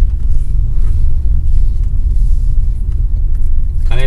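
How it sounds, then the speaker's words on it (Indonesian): Low, steady road rumble from the tires of a Wuling Almaz car driving over a rough, slightly bumpy residential road, a continuous dense drone with no voices. "suara gemuruh bannya jauh lebih berkurang"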